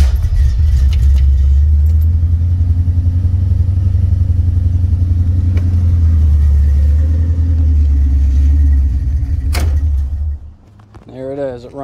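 A carbureted Ford Foxbody Mustang engine runs loud and steady with a heavy low rumble for about ten seconds, then falters and drops off near the end.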